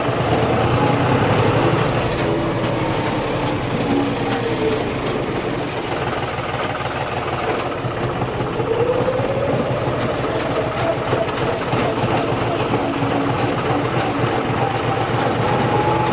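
A John Deere diesel tractor engine runs in third, its top gear, a steady loud drone with a knocking chug that holds without a break for the whole stretch, close up with no voices.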